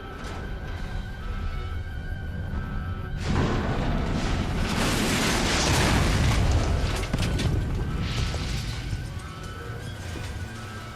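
Rocket launch in the video game Fallout New Vegas: a sudden deep roar bursts in after a quieter stretch, swells into a sustained rumbling blast, then slowly eases off.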